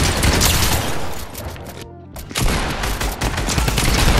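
Dense, sustained Fortnite gunfire crackles loudly through the clip, pausing briefly in the middle before a fresh burst of rapid shots resumes, with no voices over it.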